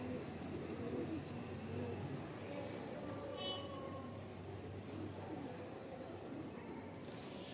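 A breeding pair of loft pigeons coos softly and continuously against a steady background hum, with a person talking faintly throughout.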